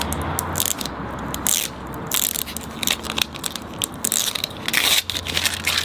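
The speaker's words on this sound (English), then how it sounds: "just take your time peeling this off" Backing is slowly peeled off a vehicle sticker at a low angle, giving bursts of close, crackling, crinkly tearing that come in uneven spurts with short pauses and no speech.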